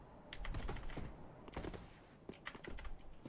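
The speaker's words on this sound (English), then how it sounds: "and then I just spam spacebar" A computer keyboard's spacebar is tapped rapidly and repeatedly in a fast, irregular clatter of quiet clicks, close-up, with no talk over it.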